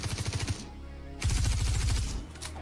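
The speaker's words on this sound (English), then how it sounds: "That sniper rifle sounds beefy." A sniper rifle fires in the Star Citizen video game, two heavy bursts of rapid booming shots separated by a short pause, loud and close.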